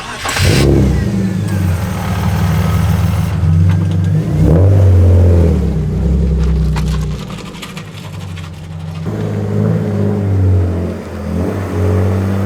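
A BMW E36 engine revs in steady mid-pitched bursts, loud and close, with throttle rising and falling as the car is pulled into a garage; no talking.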